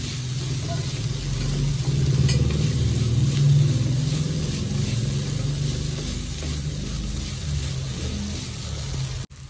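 Vegetable samosa filling cooks in a pan with a continuous close sizzle and soft stirring scrapes, a low hum running underneath and someone speaking over it.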